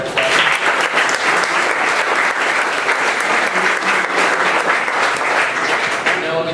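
Sustained crowd applause at a 1 Million Cups startup pitch gathering honoring two presenting companies: thick, continuous clapping from many hands, loud and even from start to finish with no voices standing out.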